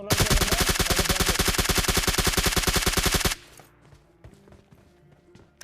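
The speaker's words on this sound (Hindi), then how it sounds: "ब्रोकन से कोई और ही बंदा फायर कर रहा था।" Rapid automatic gunfire in the battle royale game PUBG Mobile, a loud sustained burst of evenly spaced shots for about three seconds, then quieter scattered shots and thuds further off.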